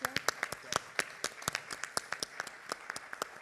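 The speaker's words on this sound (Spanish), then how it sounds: "voy a pedir un fuerte aplauso para ello" A seminar audience on the future of metropolises claps, with distinct individual hand claps in a quick, irregular patter, fairly sparse and quiet, as if from a modest crowd in a hall.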